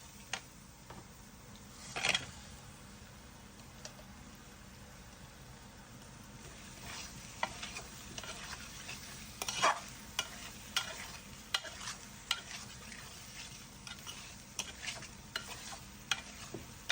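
Taro roots stirred into an oily spice masala in a pan, with a low steady sizzle and scattered scraping clicks of a spoon, a few louder stirs standing out, no talking.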